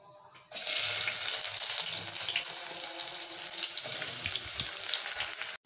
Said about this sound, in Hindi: तेल गर्म हो गया, इसमें मैं प्याज डालूँगी।